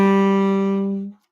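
A tenor saxophone holds one steady, full-toned note from a C fully diminished seventh chord, played alone and close, then cut off cleanly after about a second.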